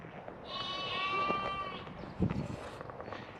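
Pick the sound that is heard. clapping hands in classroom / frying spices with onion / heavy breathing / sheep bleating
sheep bleating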